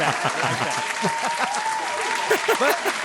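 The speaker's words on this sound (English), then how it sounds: "I'm going to clap to that." Applause from a crowd at an interview about a San Francisco music festival, steady clapping filling the full three seconds, dense and close, with a faint voice underneath.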